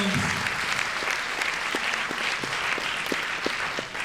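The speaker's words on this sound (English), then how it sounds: "let's give our faculty and staff a round of applause for being here" Audience applause for faculty and staff in doctoral robes at a Black graduation ceremony, steady dense clapping from a large crowd with faint voices underneath throughout.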